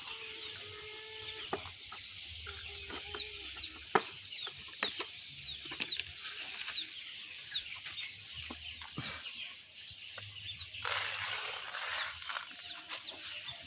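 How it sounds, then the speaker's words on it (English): Small chicks on a village farm in Africa chirp busily at feeding time, many high cheeps overlapping near the listener, with faint low knocks and a burst of rustling toward the end. "Now I want to go and feed the small chicks."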